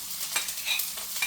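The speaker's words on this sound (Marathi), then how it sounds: "तेल घाता चोय, पियाव घाता." Chopped onion sizzles and crackles in hot oil while being stirred for Goan-style ivy gourd bhaji, a soft, close hiss with light scraping touches.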